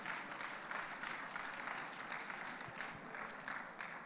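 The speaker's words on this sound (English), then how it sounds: "A round of applause for the president" Conference audience at an annual general meeting applauds the president of the Ghana Planning Institute, a quiet, distant-sounding spell of steady clapping lasting around four seconds with no talk over it.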